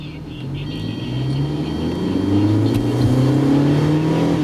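Hyundai car engine held at moderate throttle, refusing to settle to idle, with a loud, steady revving drone whose pitch climbs gradually and stays high throughout, no voices.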